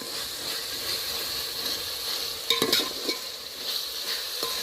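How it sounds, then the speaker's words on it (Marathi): Chili, ginger and garlic paste frying in oil for chicken biryani, a steady close sizzle with brief clinks and scrapes of stirring partway through, no talking. "आता हे चांगलं तेल सुटेपर्यंत भाजून घ्यायचं."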